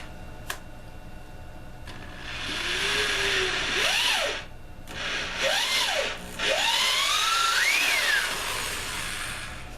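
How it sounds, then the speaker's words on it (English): A power drill with a countersink bit whirs into wood at about a 45-degree angle in several bursts, its pitch rising and falling as it speeds up and bites in. "I've got my drill with my special countersink bit, and we'll be drilling in right here"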